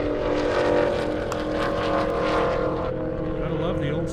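A Chevrolet Camaro race car at an airstrip drag racing event, a loud steady engine roar sustained throughout and slightly easing toward the end, with an announcer talking over it.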